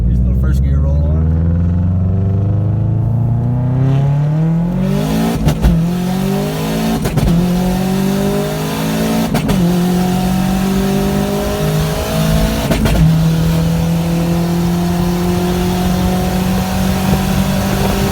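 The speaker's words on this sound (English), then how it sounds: "Here's a little first gear roll on." A 400hp Subaru STI revs hard in first gear, its engine note climbing and dropping in repeated pulls with brief gaps between them, loud and close from inside the car.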